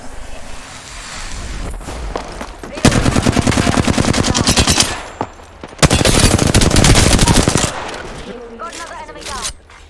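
Automatic weapon fire in the battle royale game Apex Legends, two long loud rapid bursts of rhythmic shots separated by a short lull, with quieter ambient game sound before and after.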